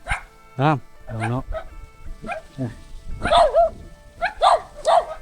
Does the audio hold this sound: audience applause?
no